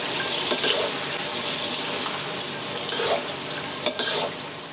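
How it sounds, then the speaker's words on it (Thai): Plantain banana slices crackle and sizzle steadily in hot oil during a second round of frying, with occasional stirring scrapes and bubbling bursts close by. "น้ำมันส่วนนี้เราก็จะนำไปทอดรอบสองเหมือนเดิมค่ะ"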